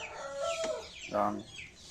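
Around ten chickens nearby giving a couple of short clucks and calls, close and fairly clear over quiet background.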